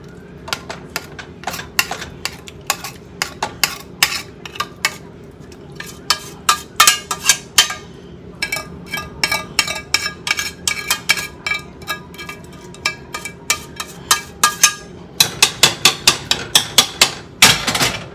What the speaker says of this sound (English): Now we're just gonna stir it up.